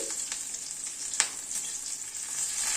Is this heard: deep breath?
no